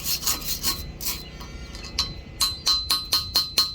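Sharp metallic chips and taps ring out as slag is knocked off a fresh stick weld, a quick series of close, bright strikes with a short pause in the middle, no voices.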